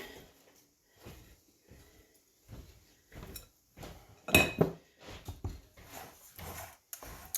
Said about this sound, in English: I sprayed my pan, and then I will put the batter in there.